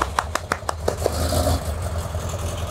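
An old classic car engine with an exhaust leak idles roughly, with sharp irregular puffing pops at first, then settling into a lower rumbling run close by.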